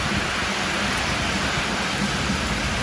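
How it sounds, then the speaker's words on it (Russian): Heavy downpour of rain in Alanya, Turkey, a steady dense roar of falling water that fills the whole clip with no break and no voices. "Идет просто проливной ливень."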